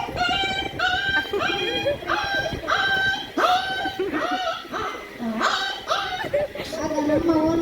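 A human voice imitates a small dog, with a run of high, yelping barks and whimpers that rise and fall in pitch over several seconds, loud and close.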